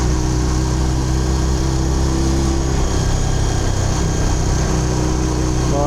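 Old motorcycle engine running hard at high revs, a loud, continuous buzzing drone with a low rumble, steady throughout with a slight shift in pitch partway through.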